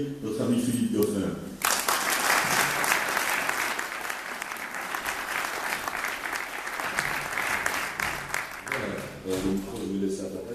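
A large indoor audience breaks into sustained applause for Philippe Goffin at a 2014 evening event in Thuin, the clapping dense and loud for several seconds, with voices talking briefly before it starts and again as it fades.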